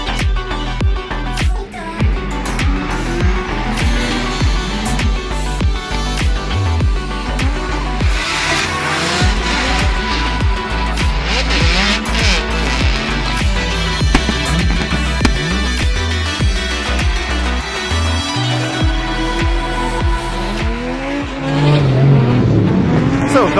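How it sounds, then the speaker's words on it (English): A car drifts at night at Mondello Park, its engine roaring continuously at close range while tires squeal and skid through the corners, loud throughout. "First time drifting a night in Mondello Park"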